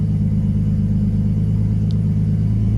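An RB25 car engine fitted with a Garrett GT3071R turbo idles close by, a loud, steady low rumble with an even, fast pulse and no change in pitch.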